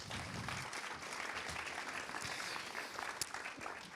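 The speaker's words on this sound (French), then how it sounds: "On vous applaudit." Lecture audience applauding after a talk on newborn screening, a steady dense clapping that fills the room and holds at a consistent level throughout.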